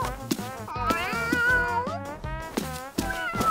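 A cat meows repeatedly in a string of close, loud, drawn-out calls with rising and falling pitch, with no talking over them.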